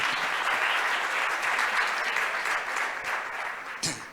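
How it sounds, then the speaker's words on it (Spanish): Loud, sustained applause from a sizable audience at a presentation of a preliminary report, dense and continuous, tapering slightly before a final sharp clap near the end. "Los aplausos."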